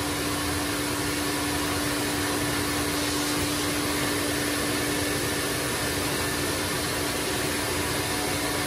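An Electrolux Z Series vacuum cleaner runs while sucking up a mess of fur: a loud, unbroken whooshing roar with a steady motor whine, close and alone throughout.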